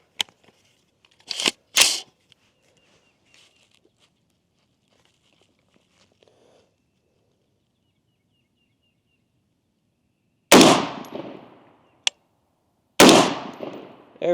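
A newly built rifle fires on an outdoor range, with several loud, sharp broadband shots in two separate pairs: the first pair comes early, then a long quiet gap, then two more shots with a brief click between them.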